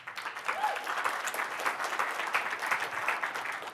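Steady applause from a conference audience at a MySQL community keynote, dense and even throughout, a large room of hands clapping with no voices over it.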